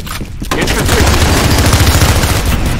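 Sustained rapid automatic gunfire from an online match of the shooter F.E.A.R. Combat erupts after a brief lull and rattles on loud and close with dense overlapping shots.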